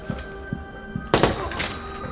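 A headshot in the Watch Dogs video game on PS4: a sharp, loud gunshot crack with a brief ringing tail, preceded by soft, evenly spaced thumps.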